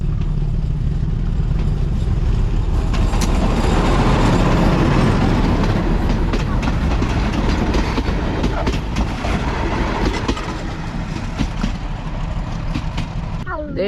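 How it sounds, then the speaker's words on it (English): Train bound for Phnom Penh rolling past near Battambang, Cambodia, a loud close rumble with rhythmic clickety-clack of wheels and metallic squeals, steady for the whole stretch; faint voices are mixed in. "we'll get to see the train go past. I think this is the train to Phnom Penh."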